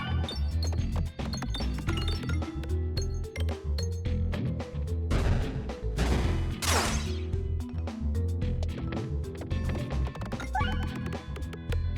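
Crashing, smashing bursts of bombs exploding in the pachinko-style roguelike game Peglin, dense and continuous over game music with clinking peg hits, loud and close throughout.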